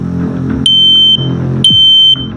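Smoke detector alarm: loud, piercing high-pitched beeps, two long tones about a second apart, over a low background hum.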